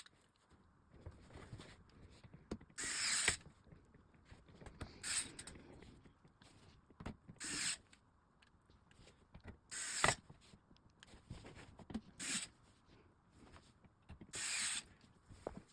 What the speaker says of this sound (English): get it in your screwdriver, and then screw it down nice and tight